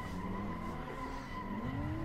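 BMW E92 drifting in the Assetto Corsa racing game, a sustained engine drone with a rising pitch under a continuous tyre skid, brief and fairly quiet.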